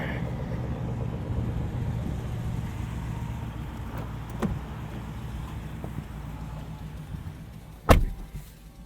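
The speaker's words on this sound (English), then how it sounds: "Now that's a V8." Dodge Durango SRT V8 engine idling, a steady low rumble throughout with a faint click partway through and a sharp thump near the end, likely a door, recorded from inside the cabin.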